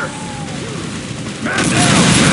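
Gunfire in Unreal Tournament 2004 bursts in loudly after a quieter opening and continues as a dense, sustained barrage.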